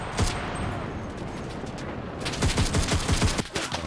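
Dense, continuous submachine-gun fire in the World War II shooter Enlisted, with a steady roar of overlapping shots and a sharper, faster burst of rapid rounds toward the end.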